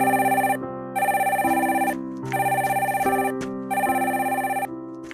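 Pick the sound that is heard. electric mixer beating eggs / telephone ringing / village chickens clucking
telephone ringing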